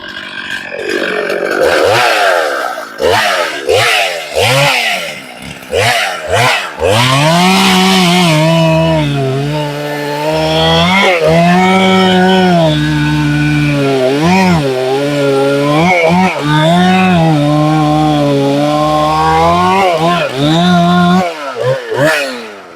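Chainsaw with chains filed to a hardwood setting, revving and biting through a log, the engine note rising and dropping repeatedly as it bogs into the cut and recovers, loud and close with no talking.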